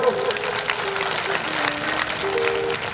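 Loud, sustained clapping from an audience at a Hindu devotional gathering, a dense patter of many hands spread evenly across the whole stretch, with a faint voice or tone running underneath.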